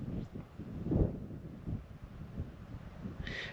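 Gusty wind buffets the microphone with low rumbling bursts, steady and close throughout, in the Snake River Canyon.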